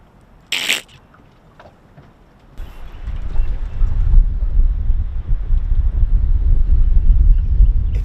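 Wind buffeting a fishing boat out on a bay, a steady low roar that builds and holds after a brief sharp rustle near the start, loud and close, with no talk.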